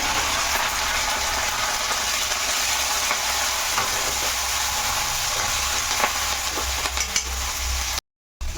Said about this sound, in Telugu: తాలింపు వేసేసుకుంటున్నానే